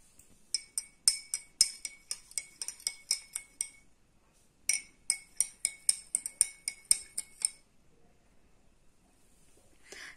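A spoon stirs black grape juice with black salt in a glass, giving a run of bright, rapid clinks against the glass, a short pause, then a second burst of clinking, close and clear with no talk.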